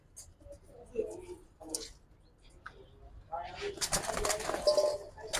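Giribaz pigeons coo softly in a seller's loft, with low throaty calls scattered through the clip and a busier mix of rustling and voices building toward the end.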